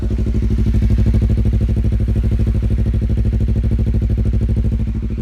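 Close and loud, the two-cylinder Honda CBR250RR with a Kea exhaust and an MBR Tech module idles in a steady, rapid, evenly pulsing thrum that holds constant, with no one speaking.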